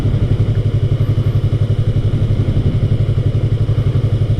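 A Yamaha MT-03 motorcycle engine idling with a steady, rapid thumping pulse, loud and close with a faint mechanical clatter and no speech.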